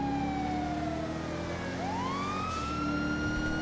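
Police car siren in the video game GTA 5 wails steadily and loudly, its pitch falling then sweeping back up in a continuous tone, with engine and traffic noise beneath.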